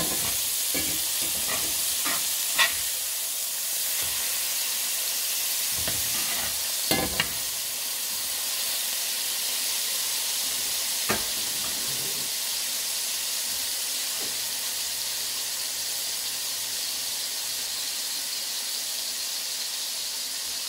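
Bacon bourbon jam cheeseburgers sizzle and hiss steadily in a pan after being flipped, a continuous bright frying sound with a few scrapes and clinks early on and no talking.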